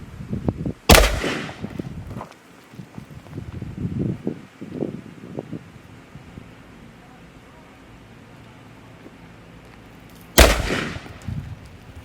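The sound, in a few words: AR-15 rifle gunshot at a head target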